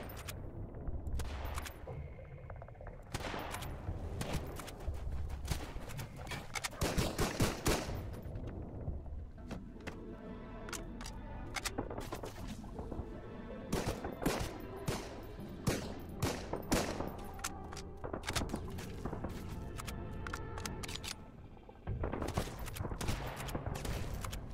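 Enemy gunfire in the Sunkenland survival game at an outpost battle: repeated bursts of rapid shots and single cracks, fairly loud and close, spread across the whole stretch with short pauses between volleys.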